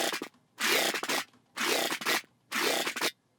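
A growl synth bass patch in Serum, played as three gritty, heavily modulated notes of roughly half a second each. Each note is rhythmically separated by short gaps with a few clicky transients, and no one talks.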